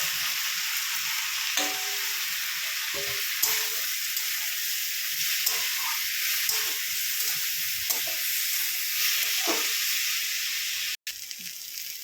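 Potatoes, carrots, rice and dal stir-frying in a pan for egg khichuri, a steady close sizzle and hiss with intermittent scraping stirs throughout, no talking.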